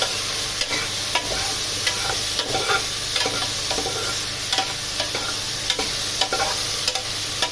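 Sinigang na buto-buto, pork rib sour soup with ripe saba banana, being stirred in a pot: a steady, close sizzling bubble with repeated soft scraping knocks of the spoon against the pot, no voices.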